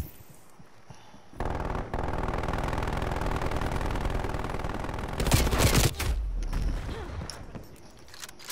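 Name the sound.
MG 82 machine gun firing in video game Call of Duty Black Ops Cold War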